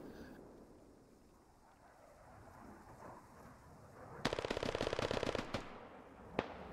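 Gunfire in the SquadOps military shooter game, a fast burst of automatic shots about a second long, heard at a distance after a quiet stretch of ambient hum, then a single later shot.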